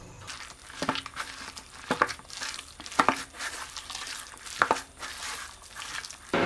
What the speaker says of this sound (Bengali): এবার হাত দিয়ে মাখাবো।